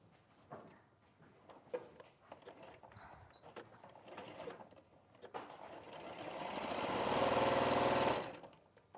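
A domestic sewing machine stitches fabric pieces together: quiet clicks and handling first, then a steady whirring run that builds for a couple of seconds before stopping abruptly.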